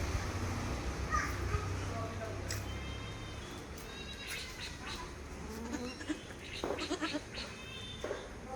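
A large Malabari mother goat and her two kids bleating and calling amid a livestock sale yard, several cries rising over steady background murmur and voices talking nearby.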